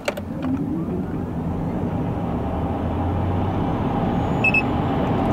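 A Zeekr 001 electric car launching hard, a steady loud rush of road and wind noise with a low whine, no engine note, building evenly for several seconds.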